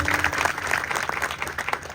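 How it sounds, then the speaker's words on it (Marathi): Applause from an audience at a Marathi kirtan, cheering young warkari children who danced during the devotional singing; steady crowd clapping that runs throughout, with some voices mixed in. "खरंच त्या बाळांसाठी एकदा टाळ्या वाजवा"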